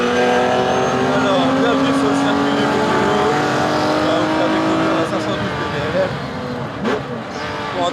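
Classic racing cars roar around the Mugello circuit, engines whining and revving at high pitch, with a commentator talking over the continuous motor noise.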